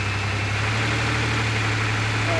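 A 1997 Oldsmobile Bravada's 4.3L Vortec V6 running in drive at about 1,500 RPM, suspected of lifter noise or rod knock, giving a steady, loud, close engine hum with continuous low drone.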